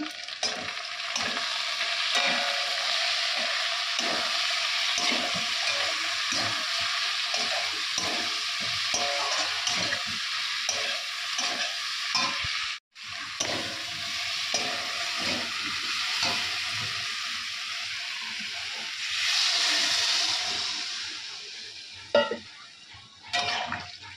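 Chicken curry fries with spices in a pan, giving a steady close sizzle broken by repeated scraping stirs, with no talking.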